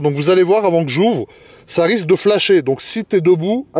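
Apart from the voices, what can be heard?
No everyday noises stand out.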